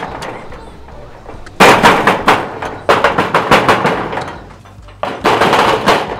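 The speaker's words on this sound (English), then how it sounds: "why would you need to bang the door like that?" Hard banging on the door of a Kenyan matatu minibus, loud repeated thumps in several rapid bursts with short pauses between them, close by and on its own.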